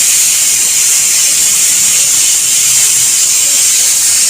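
Chopped onions and green chilies sizzle steadily in a hot pan for a Kerala-style beef curry, a continuous loud frying hiss with no talk.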